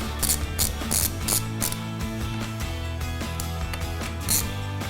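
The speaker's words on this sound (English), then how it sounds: "I'm going to start by removing the brake calipers with a 8mm hex driver." An 8mm hex driver ratchets on the front brake calipers of a Ducati Desert X motorcycle, giving quick, close bursts of metallic clicking in an uneven rhythm over a low background hum.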